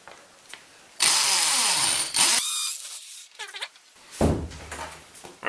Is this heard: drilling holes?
yes